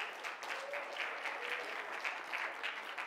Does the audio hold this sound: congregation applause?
yes